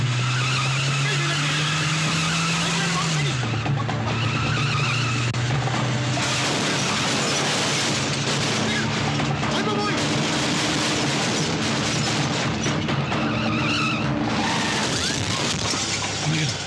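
A car is driven wildly in a comedy film scene, with a loud engine, long tire squeals and skids, and crashing impacts over several seconds, while voices shout over the din.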